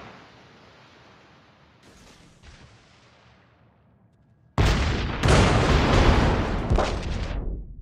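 Naval gunfire in World of Warships, a destroyer battle: a faint rumbling barrage fades out, then a sudden loud burst of heavy ship guns roars on for several seconds, dense and booming close by.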